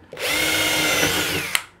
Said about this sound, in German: und mir hier rundherum einfach Löcher reinbohre, damit das ganze Ding dann irgendwann einfach rausbricht